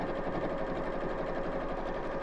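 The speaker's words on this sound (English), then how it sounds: "I'm just going to sew all the way around the edge of this one." A small, fast domestic sewing machine stitches steadily around the edge of a fabric piece in red thread, a continuous loud motor whir with rapid needle rhythm, close and uninterrupted.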